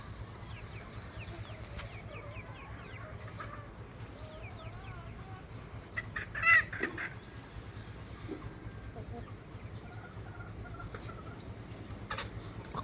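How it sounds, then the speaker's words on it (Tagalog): Chickens on a farm cluck and peck at feed near a goat, with scattered soft clucks and chirps over steady low background noise and one brief louder call midway. "pinakain ni RB ng feeds yung manok."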